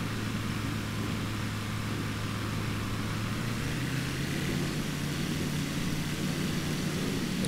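A propeller airplane taxis near a Honolulu runway, its engine a steady, loud broadband drone with a low hum that holds without pause throughout.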